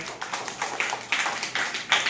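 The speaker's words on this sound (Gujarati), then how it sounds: "ચલો ભાઈ તાળીઓ પાડો બધાય." A handful of people clap in a classroom activity, loose irregular claps in short bursts rather than a sustained roar, fairly close and moderately loud with no talk over them.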